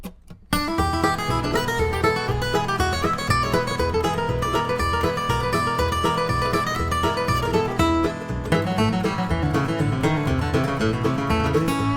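A bluegrass guitar solo is played up to tempo against a backing track, starting after a brief pause and continuing loud and busy to the end.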